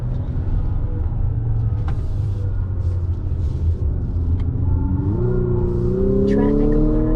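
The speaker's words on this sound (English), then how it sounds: "You get a bunch of fake engine sound coming through." Synthetic engine sound piped into the cabin of a 2022 Infiniti QX55 with a CVT, a steady low drone that climbs in pitch near the end as the revs rise, with road rumble underneath and no talking.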